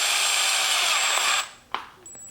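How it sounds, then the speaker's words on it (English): A power drill bores holes through the first layer of a hollow Z06/Z07 conversion wing on a C8 Corvette: a loud, steady high whine for about a second and a half, then it stops, followed by a couple of short clicks and knocks. "I'm going to drill just some holes like right here"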